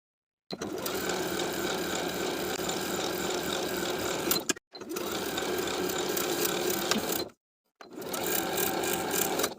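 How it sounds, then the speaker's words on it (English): Sewing machine running a zigzag stitch over elastic on a swimsuit band, a steady close mechanical whir in three sustained bursts separated by short silent pauses. "sewing on top of the elastic with a zigzag stitch with a 3 millimeter width and length"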